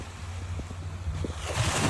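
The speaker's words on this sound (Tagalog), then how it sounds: "Tahimik lang ang dagat for today's video." Calm sea with gentle waves washing in steadily, soft and continuous, with a low breezy rumble underneath and no talking.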